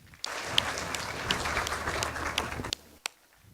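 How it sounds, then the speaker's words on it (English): Steady audience applause for footballers at a Kenyan awards gala, a dense continuous roar of many hands clapping that stops abruptly, followed by a single stray clap. "I request you to join me in giving them a round of applause"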